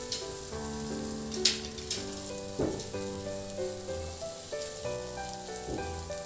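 Onions sauté in a pan for a milkfish (bangus) dish, giving a soft, steady sizzle with occasional stirring clatter, under background music.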